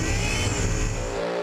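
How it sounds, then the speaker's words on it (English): A burnout car at an Australian burnout event revs hard with its supercharger blower whining, a loud, continuous engine roar that barely dips before a brief pause at the end. "Nice big revs. You can hear the blower whining."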